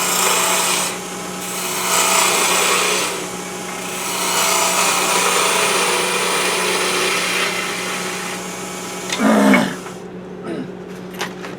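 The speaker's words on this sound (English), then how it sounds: "I'm going to switch over to the bowl gouge, just because I can come down in a little easier." A bowl gouge cuts into wood spinning on a lathe while shaping a peppermill, a continuous rough, scraping hiss over a low motor hum that swells and eases, ending with a brief louder catch as the cut stops.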